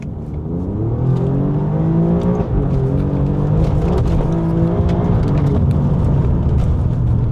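A used Alfa Romeo Giulia Quadrifoglio accelerates hard from rolling, its engine revving loudly and climbing in pitch through gear changes, heard close and continuous without talk.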